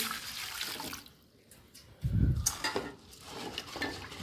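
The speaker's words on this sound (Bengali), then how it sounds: "ডালটাকে একটু ধুয়ে রাখছি" Lentils being rinsed in water in a home kitchen, a soft sloshing and swishing with a brief louder splash of water in the middle, close and with no talk.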